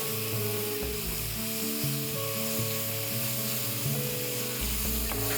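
Onions with curry leaves sautéing in a pan toward golden brown, a steady soft sizzle beneath a sustained tonal background with occasional faint stirring.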